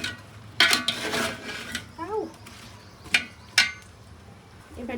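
Raw mango pickle being mixed in a pot, with several sharp clinks and scrapes of a utensil against the metal spaced irregularly, alongside brief rustling and a short vocal sound.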